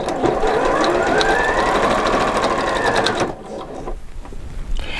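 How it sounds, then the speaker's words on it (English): A Janome 4120QDC-T sewing machine runs a straight stitch on a garment seam with a loud, steady, close whir for about three seconds, then stops, leaving light handling noise. "You're just doing a straight stitch and the machine is splitting both of those threads"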